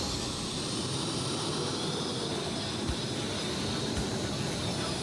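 A pulling tractor, the 2010 Le Redoutable, roars at full power down a clay track at a tractor pulling competition in Bernay, a dense, steady, loud engine bellow with no pause and no voices.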